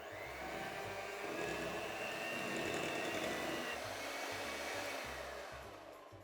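An electric mixer beats white chocolate into buttercream, giving a steady motor whir with a slightly throbbing low drone that runs continuously for several seconds and eases off at the end.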